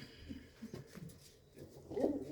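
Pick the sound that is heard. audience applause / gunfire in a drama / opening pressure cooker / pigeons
pigeons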